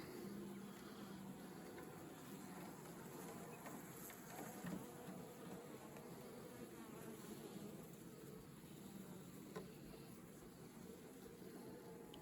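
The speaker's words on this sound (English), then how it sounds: "there's a cluster of bees right to the bottom bars" Honey bees clustered low on the bottom bars of a hive in winter give off a steady, dense buzzing hum, close and continuous throughout with no pauses.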